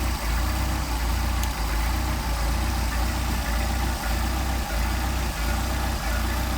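A Mercedes 190SL engine with Solex carburetors idling at about 800 rpm during cold-start and idle mixture adjustment: a steady, close, low engine drone with a regular pulsing beat and no speech over it.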